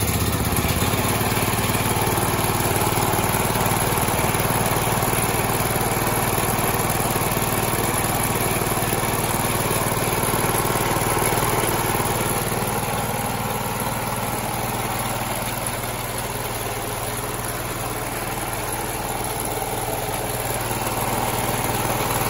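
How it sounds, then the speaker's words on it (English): A portable generator engine with a freshly repaired carburetor runs steadily at close range, a loud continuous mechanical drone with a slight easing in pitch partway through, and no voices over it. "let me put it on right now for you guys to see how the sound is now fixing the carburetor"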